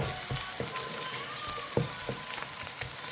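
Onions and green chillies sautéing in a pan give a quiet, steady sizzle, broken by a few soft clicks and taps of stirring.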